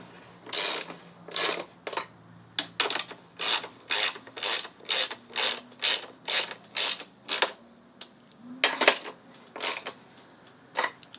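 A ratchet tightens the battery hold-down bolts on a Nissan R32 GTR V-Spec II, a series of about fifteen crisp clicking bursts close by with short pauses between strokes.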